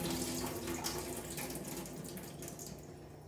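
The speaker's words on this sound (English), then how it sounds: "Gonna give my bean sprouts a quick rinse in some cold water." Cold water runs steadily from a kitchen tap over bean sprouts being rinsed for a stir fry, a continuous close splashing hiss with no talk.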